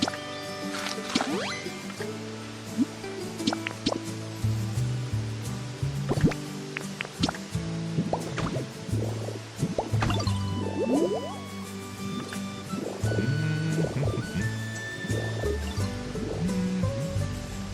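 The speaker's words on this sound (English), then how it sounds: "I love the sound of the waterfall too." Waterfall ambience in the video game Pokémon Pokopia, a steady trickling, dripping water bed running under layered game music with chimes and plucked tones throughout.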